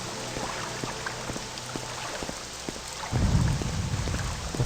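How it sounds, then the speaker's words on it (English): Rain falls in a Morrowind game scene as a dense, steady patter of drops with occasional sharper ticks, joined partway through by a low rolling rumble like distant thunder. "Why is it raining in here?"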